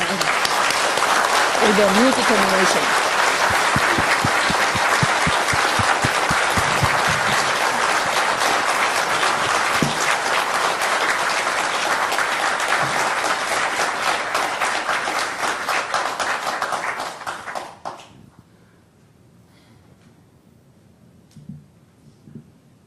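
Sustained audience applause fills a hall during a Hoon Dok Hae gathering at East Garden, New York, a dense steady clapping that holds loud for many seconds before dying away quickly to near silence.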